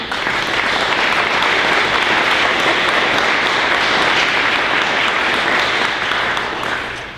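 A ceremony audience gives a sustained round of applause, a dense, steady wash of many hands clapping at even loudness for the whole stretch, easing off only at the very end.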